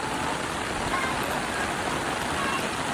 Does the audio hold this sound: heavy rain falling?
yes